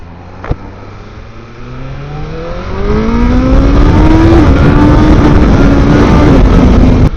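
A BMW M1000RR superbike engine in race mode revs up close and loud, its pitch climbing steadily and then holding a high, sustained roar with no talk.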